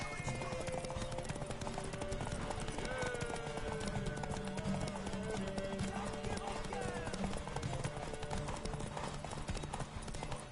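Rapid, steady hoofbeats of a galloping horse in The Witcher 3: Wild Hunt on PS4 pound throughout, mixed with dense game sound effects and voices talking over the action.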